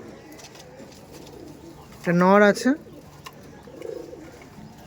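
A single short pigeon coo, warbling and fairly close, rises over quiet background murmur, with a person speaking briefly nearby.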